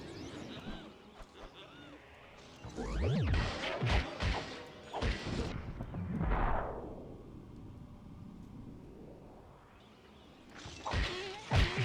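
Crystals smash in Legend of Spyro: The Eternal Night, several sharp crashing bursts with swooshing game effects and a long rising-and-falling whoosh between them, under a speaking voice.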